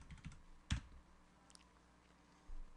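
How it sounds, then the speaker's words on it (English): Quiet keystrokes on a computer keyboard, a short run of taps followed by one sharper key press, then a few soft clicks over faint background hiss. "So we're going to type passwd-master."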